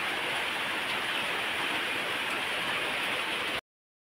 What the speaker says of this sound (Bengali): দেখো আবার বৃষ্টি পড়ছে।